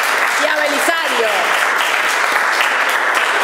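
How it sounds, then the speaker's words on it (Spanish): An audience breaks into steady applause to welcome a speaker at a talk, a dense, even clapping that carries on throughout, with a brief voice heard over it near the start. "recibámosla con un aplauso."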